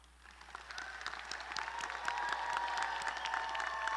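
Sustained applause from a large audience honouring bachelor's degree recipients at a December university engineering commencement ceremony, steady dense clapping that swells and holds throughout.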